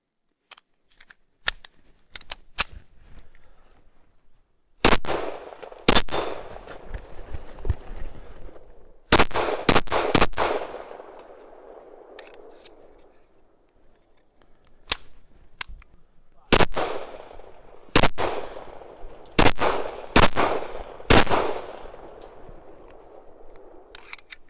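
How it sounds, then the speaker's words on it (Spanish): Sharp pistol shots from a Luger P08 being test-fired, roughly a dozen loud cracks in uneven clusters with quiet pauses between groups, some echo trailing after each shot. "La Luger es un arma interesante que vimos hoy y probamos con algunos disparos."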